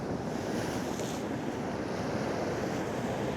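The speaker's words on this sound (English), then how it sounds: "These waves that are coming in are huge, and I'm sure you can sort of hear them" Large ocean waves crash onto the shore as heavy surf, a steady close roar of breaking water mixed with gusty wind buffeting the microphone, with no voices.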